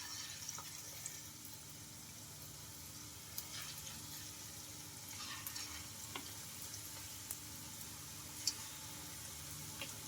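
Pakoda batter fries quietly in hot oil with a soft, continuous bubbling hiss and occasional faint clicks of stirring, low and steady with no talking.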